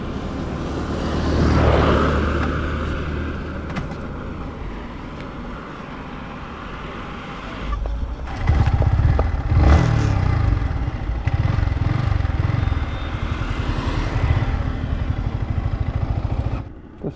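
A Yamaha MT15 motorcycle with a suspected wet battery connection is push-started outdoors, giving a rumbling rush and clatter that swells into a loud, rough engine roar about halfway through and then holds steady, close by with no talking.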